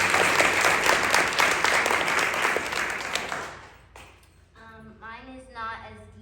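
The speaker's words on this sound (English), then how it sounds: "Clap it up for her" An audience at a literary competition awards ceremony claps in a loud, dense burst that fades out after a few seconds, then a person begins speaking.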